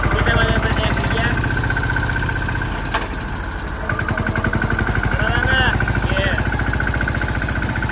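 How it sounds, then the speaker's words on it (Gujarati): A tractor engine runs loud and close on a farm while hauling harvested millet home, a steady throbbing chug that dips briefly midway before picking back up, with faint voices beneath. "ટ્રેક્ટર લઈને જઈએ છે ઘેર."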